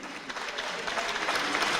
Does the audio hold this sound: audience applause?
yes